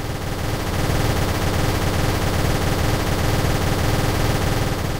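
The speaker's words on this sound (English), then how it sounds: "If I change this to 1 and it's a static pitch" A fast, steady stream of identical-pitch gunshot effects from a GDevelop game rattles on loudly and evenly for several seconds, with no voice.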